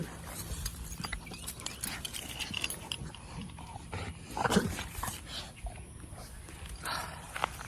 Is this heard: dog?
yes